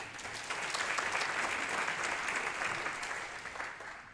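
Audience at an evening Advent mission gathering breaks into sustained applause, dense steady clapping from many hands that holds evenly throughout, then eases slightly toward the end.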